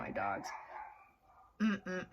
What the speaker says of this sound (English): So avoid the barking in the background.